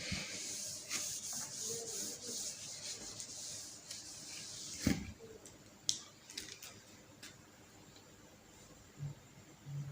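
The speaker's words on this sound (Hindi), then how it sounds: "मैं पहले इसको रब कर देता हूँ" Writing is erased from a board during a maths lesson, heard as quiet, uneven rubbing strokes with a few sharp knocks and taps in between.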